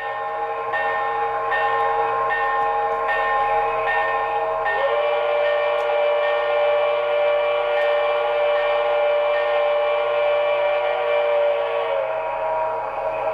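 The sound-system bell of a Broadway Limited PRR S2 6-8-6 turbine model locomotive rings steadily in regular strokes over a constant mechanical hum, with no talking.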